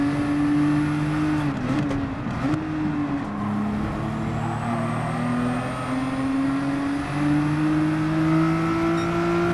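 A race car engine in Gran Turismo 7 at Daytona pulls hard through the gears, a steady loud drone that rises in pitch, drops briefly at a shift and climbs again, close and continuous.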